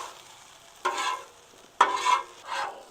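Onions tipped into a pan of crispy frying potatoes, three separate bursts of loud sizzling and scraping stirs with quieter frying between them, close up, no voices.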